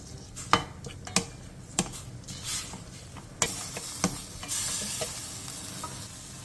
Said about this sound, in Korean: 냄비에 들기름 한 스푼을 두른 뒤 소고기 양지 200g, 다진 마늘 한 스푼, 국간장 3스푼을 넣고 골고루 섞이게 한번 볶아주세요